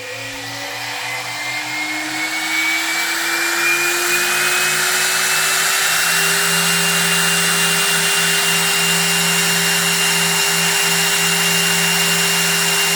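An Onefinity CNC router spindle in a garage wood shop spins up toward 24,000 RPM, its whine rising steadily in pitch and then holding a loud, even electric scream for several seconds.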